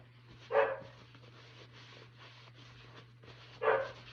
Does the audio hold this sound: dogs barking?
yes